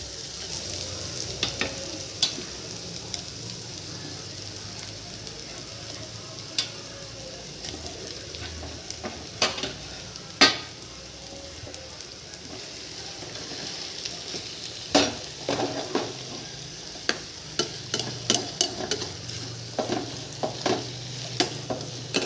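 Ginger, garlic and tomato frying in a pan for a prawn and spinach gravy, a steady close sizzle broken by repeated sharp clicks and scrapes of a spoon stirring against the metal, with no voices.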